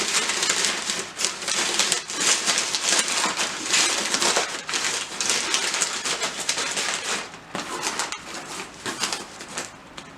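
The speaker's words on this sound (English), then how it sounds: "Another piece of packing paper on the top." Sheets of packing paper being crumpled and pressed into a cardboard shipping box on top of a pair of shoes, a continuous loud crinkling and rustling with sharper crackles throughout, close up and with no talking.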